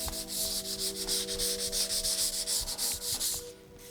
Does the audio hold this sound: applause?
no